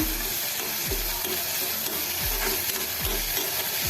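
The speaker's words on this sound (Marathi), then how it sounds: "आता टोमॅटो आपण थोडासा परतून घेऊया" Chopped tomato sautés in a pan, a constant close sizzle broken by a few low scraping stir strokes at regular intervals, with no voices present.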